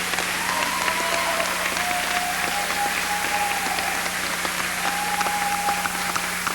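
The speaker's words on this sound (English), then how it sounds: "let's have a nice round of applause for the 1996 NJCAA All-Tournament team." A crowd in a basketball arena applauds the 1996 NJCAA tournament all-tournament team, steady sustained clapping from many hands throughout, with a faint whistle-like tone drifting over it.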